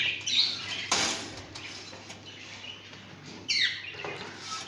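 Caged birds in an indoor breeding room give sharp squawks and chirps in short bursts, with fluttery rustling between calls, fairly close and without talk.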